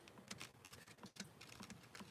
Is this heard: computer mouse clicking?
yes